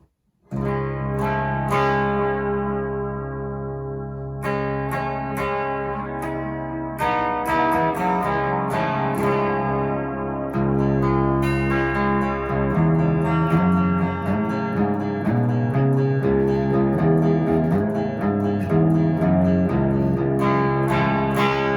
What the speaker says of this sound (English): Let's go ahead and see what that sounds like with some effect.